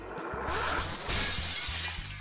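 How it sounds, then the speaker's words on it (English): A camera is smashed in the retro-style game 7th Stand User, a sharp, loud burst of shattering glass followed by a brief scatter of falling pieces over game music. "Joseph smashed the camera and a Polaroid photo came flying out"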